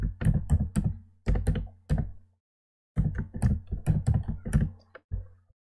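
Keys on a computer keyboard tapped while entering a password on a PC, in two quick close bursts of clicks separated by a short pause, followed by a few final taps.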